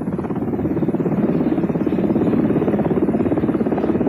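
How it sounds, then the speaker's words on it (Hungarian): A Sky Crane heavy-lift helicopter carries a prefabricated ski hut up a mountain slope, its rotor beating in a loud, steady, rapid chop close by, with a continuous engine drone and no voices. "Ez a Sky Crane egy előre gyártott új síkonyhót szállít a 390 méter magas hegyi lejtőre."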